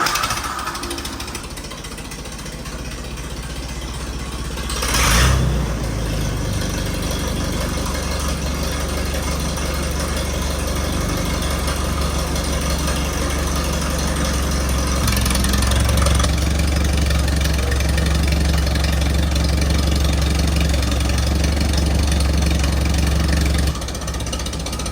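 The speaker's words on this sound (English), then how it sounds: "we're gonna go ahead and start up the tractor and extend the rams" An Allis Chalmers WD45 tractor engine runs at a steady idle, a loud, low, continuous rumble with a couple of brief louder bursts and no talking.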